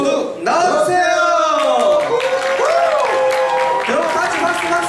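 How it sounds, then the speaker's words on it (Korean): Audience applause and clapping at the curtain call of a student practical-music concert, steady crowd clapping throughout, with talk and a singing, musical voice over it. "그럼 같이 박수 박수!"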